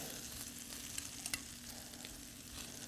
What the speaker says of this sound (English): Just stir these up some and spread that oil around again.